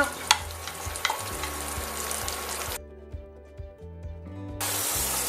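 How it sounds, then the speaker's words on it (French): Food grills in a pan, giving off a bright hissing sizzle with scraping stirs. The sizzle drops out briefly and then returns strongly, all under steady background music with no talking. "je la fais griller un peu"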